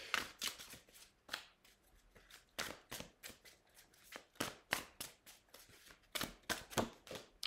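Deck of tarot cards being shuffled by hand, a quiet, close series of crisp riffling and slapping bursts in an irregular rhythm, with no talking.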